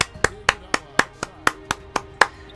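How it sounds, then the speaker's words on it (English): About ten sharp, evenly spaced crowd claps in the NBA 2K18 basketball video game, steady rhythm, loud and close, with a faint background hum between them. "clapping for the man"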